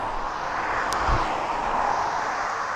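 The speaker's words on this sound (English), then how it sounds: "So that's your cargo jet," A cargo jet taxiing at East Midlands Airport gives off a steady, broad engine roar that holds at a constant level throughout, with a brief low thump partway through.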